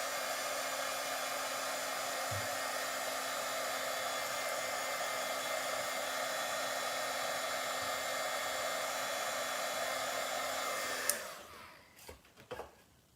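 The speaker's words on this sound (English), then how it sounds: "And then just gonna grab my embossing tool." A heat embossing tool blows hot air in a steady, even whine and rush that runs for about eleven seconds, then shuts off abruptly, leaving a few faint clicks and handling noises.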